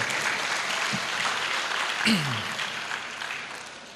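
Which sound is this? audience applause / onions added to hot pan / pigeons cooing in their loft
audience applause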